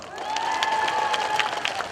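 A crowd at a Korean pumba street-performer festival claps and cheers, a dense, steady wash of applause with a voice carrying over it.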